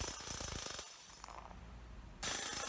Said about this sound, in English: the operator effortlessly separates laser-cut parts from the raw sheet by striking them